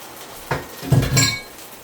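Cornstarch and water being stirred in a dish, heard as a few sharp clinks and scrapes of utensil against the dish, with a short cluster of louder knocks in the middle and no talking.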